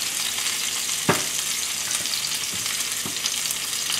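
Garlic, ginger and fresh hot chili sauté in a pan with a steady close sizzle, punctuated by a few sharp stirring knocks and scrapes of a utensil.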